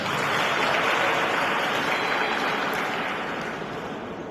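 Sustained audience applause at a French-language lecture on faith and ancestral customs, a dense, even wash of many hands clapping that holds steady and then eases off slightly toward the end, with no voices.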